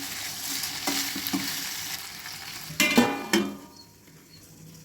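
Brinjal fry is stirred in a pan with soft sizzling and a few sharper scrapes and clinks of the utensil against the pan, close and fairly quiet, before the sound fades near the end.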